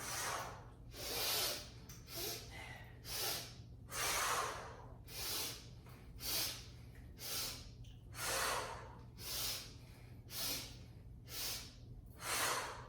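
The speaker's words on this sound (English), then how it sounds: "Exhale and bring it straight down and out through the mouth." Steady rhythmic breathing during an all-levels yoga flow, each exhale pushed audibly out through the mouth as a loud, close, breathy whoosh, repeating about a dozen times at a regular pace with no talking.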